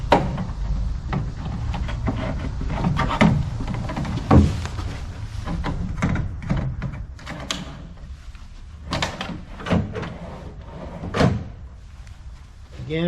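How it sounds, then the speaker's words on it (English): A solid wood drawer slides into interlocking wooden furniture, giving a run of close wooden knocks, bumps and scraping slides spread irregularly across the stretch, some sharp and loud, others soft. "Next, simply install the drawer."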